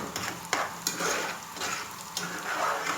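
Onions for koshari fry in hot oil in a pan while being stirred, giving a steady close sizzle broken by scraping stir strokes, with no speech.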